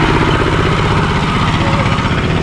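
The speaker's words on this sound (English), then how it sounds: "this noisy tractor goes" A noisy tractor rumbles past on a rural road in Laos, a loud, close, continuous low engine chug with steady vibration throughout.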